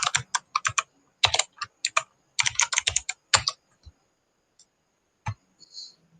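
A computer keyboard clatters with bursts of quick, close keystrokes as a command is typed, pausing between clusters and ending with a few isolated taps.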